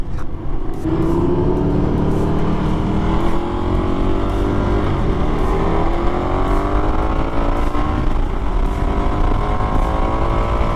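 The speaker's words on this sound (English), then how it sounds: "I can hear the gargle from that SE Project GP22 exhaust" A motorcycle with an aftermarket SE Project GP22 exhaust drones loudly and continuously, its gargling exhaust note rising steadily as it accelerates, close and unbroken with no talking.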